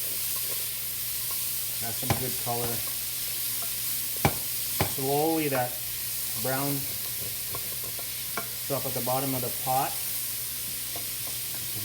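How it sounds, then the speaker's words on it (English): Onions sweating in olive oil in a pot give a light, steady sizzle with occasional stirring clatter, running under someone talking intermittently. "You want to hear some light sizzling."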